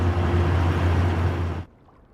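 Truck traffic in the Cities Skylines 2 city builder, a dense rumbling roar with a low engine drone that cuts off abruptly near the end, leaving near silence.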